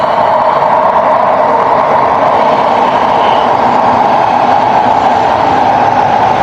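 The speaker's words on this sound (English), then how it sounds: "You hear that's a train going by there." A train passes steadily outdoors among many trees, a continuous broad rumble and rolling roar holding at even loudness throughout, with no talking.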